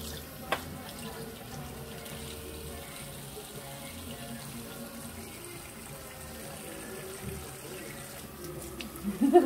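Water running from a tap at a hairdresser's wash basin during a hair wash, a steady soft flow with a few small knocks, fairly quiet, with a brief touch of voice near the end.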